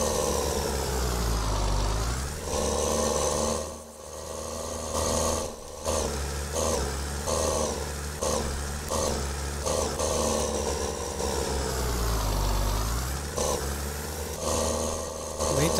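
A New Holland 3630 tractor in Farming Simulator 22 runs with a steady diesel drone, its pitch rising and falling as the throttle shifts, with sharp gear or load changes and brief dips breaking the continuous engine note.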